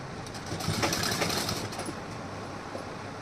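A sewing machine runs steadily, stitching a folded seam on a blouse; the motor whirs at a constant, fairly close level for a few seconds with no talking.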